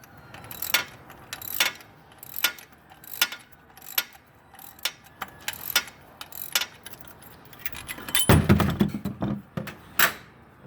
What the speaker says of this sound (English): while you're unscrewing the nut for the oil cooler housing